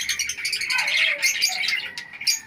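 Flyer pigeons in a breeding loft chirp and call continuously, with soft twittering and a brief low coo, close by and without talk.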